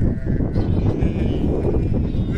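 Sheep and young lambs bleating on a farm, several overlapping loud nearby calls forming a dense, continuous chorus of bleats.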